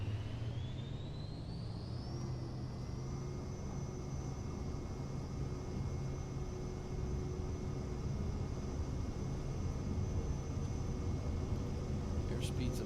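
An airliner rolls down the runway for takeoff in Microsoft Flight Simulator 2020, with steady engine roar and rising whine as power builds, a constant rumble underneath and a voice speaking briefly over it.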